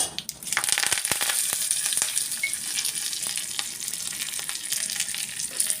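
Dried chilies, curry leaves and asafoetida dropped into hot oil for a tempering, giving a loud, close crackling sizzle with sharp pops scattered throughout.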